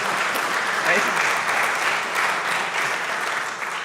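Sustained audience applause fills a synagogue concert hall, a dense, steady wash of many hands clapping at close range throughout with no pauses.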